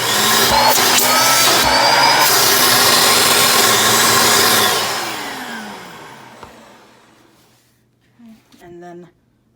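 A Eureka AirSpeed multi-cyclonic vacuum cleaner runs loud and steady with a rough whooshing roar for about five seconds, then winds down and fades out. A few brief faint knocks and sounds follow near the end.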